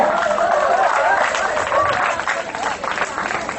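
An audience at a volunteer gathering applauds, a dense wash of clapping from a crowd that swells then thins, with a voice faintly beneath.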